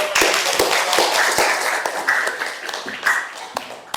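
Applause in an Islamic religious lesson, a short burst of brisk clapping from a small group, close and lively, fading slightly toward the end with voices mixed in.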